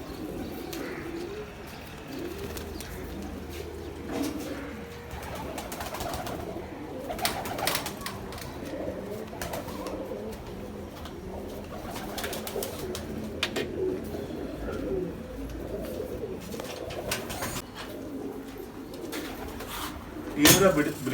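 Pigeons coo repeatedly in a breeding setup, soft throaty calls overlapping with occasional chirps and wing rustles, close by, with someone talking intermittently over them.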